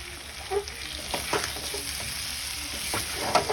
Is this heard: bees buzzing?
no